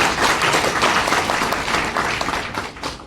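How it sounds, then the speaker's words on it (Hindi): A gathered crowd in Garhmukteshwar claps for the teachers among them at a motivational talk: loud, continuous, thick applause from many hands that fades a little toward the end. "एक बार तालियां बजा दो के लिए"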